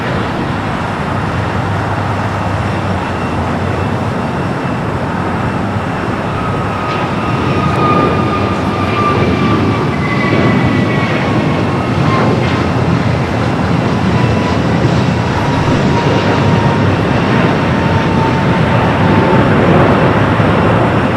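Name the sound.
airliner with Stars and Stripes livery at LAX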